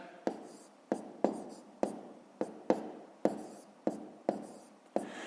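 Pen strokes scratching on paper while a sum is written out, about a dozen short crisp taps and scrapes in an irregular rhythm, close and quiet, with no voice.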